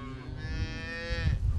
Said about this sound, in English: Highlands are thought to be one of the oldest cattle breeds in the world.